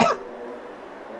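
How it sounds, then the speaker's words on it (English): A commentator suffering a cold gives one short, sharp cough at the very start, close to the microphone, followed by quiet background noise. "we're both suffering colds, so if you hear us coughing throughout this"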